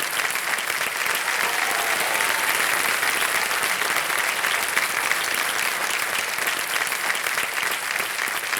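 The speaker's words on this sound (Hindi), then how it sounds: "तालियां बजती रहे इनकी" Studio audience at the KBC quiz show applauds steadily and loudly for a contestant who just won 3,20,000 rupees, dense clapping filling the whole stretch without a break.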